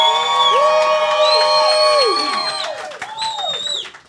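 Studio audience at a live comedy roast show cheers and whoops loudly for a contestant, a dense sustained crowd roar with shrill yells that tapers off near the end.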